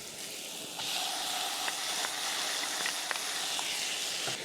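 Tomatoes sizzling in a pan with garlic and ginger, a steady soft hiss that grows slightly louder after they go in, with faint clinks of a utensil.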